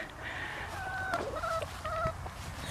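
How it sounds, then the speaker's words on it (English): Several chickens give short clucking calls together at close range over steady background noise. "chickens here, different ones."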